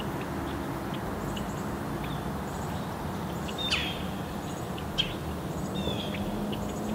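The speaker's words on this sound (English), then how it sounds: "I believe those are European starlings, and they're feeding off the seeds of all the vegetation here in the marsh." European starlings call in a marsh, giving a few faint, thin chirps and whistles scattered over a steady outdoor rumble and hiss, with the birds sounding distant.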